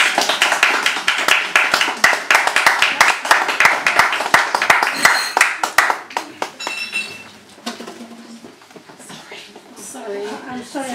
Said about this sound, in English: So more applause, please, for Graham Buck.